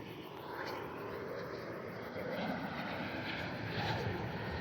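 An American Airlines jet passes overhead as a steady, broad engine roar that swells slightly toward the end, heard from a distance and fairly faint under outdoor ambience.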